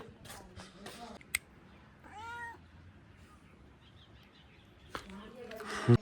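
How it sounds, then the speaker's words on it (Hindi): A cat meowing on a snowy morning in Palampur, one clear wavering meow near the middle among soft clicks and rustles, faint and fairly close, with a sharp noise near the end. "सुबह सुबह ही हो गए हैं बिल्ली के दर्शन"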